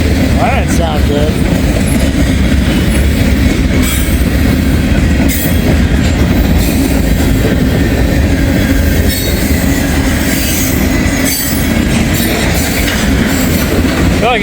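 Freight train hauling heritage-painted locomotives picks up speed, a loud continuous rumble of railcars with wheel clatter and occasional squeals, close by and steady throughout.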